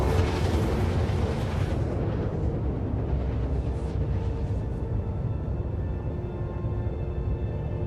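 A massive ship destruction in Star Citizen, a Polaris blown apart by the Perseus, rolls out as a dense, continuous roar of explosive rumble that gradually thins at the top, with no voices.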